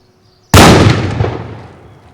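A single loud, sharp blast from a police controlled detonation of an explosive device in a special container erupts after a brief quiet, followed by a long rumbling decay that fades over the next second and a half.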